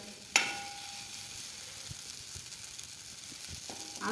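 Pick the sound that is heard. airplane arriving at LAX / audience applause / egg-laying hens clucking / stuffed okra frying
stuffed okra frying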